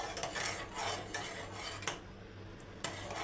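Metal spoon scraping and clinking around a pot while stirring a thickening vanilla ice cream mixture over a medium gas flame, with repeated sharp clanks against the rim.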